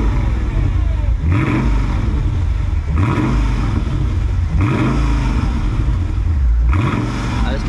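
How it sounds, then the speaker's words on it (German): A Mercedes-AMG car with an AMG sport exhaust revs repeatedly, about four rising blips of a deep engine note over a steady idle rumble, loud and close. "Und der hat die Sportabgasanlage von AMG."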